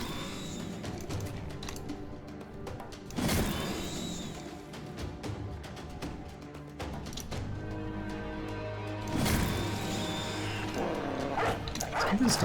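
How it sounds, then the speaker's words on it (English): Dog barks and yips from a video game, several bursts scattered through a busy game soundscape with a person talking over it. "That dog knows where he is."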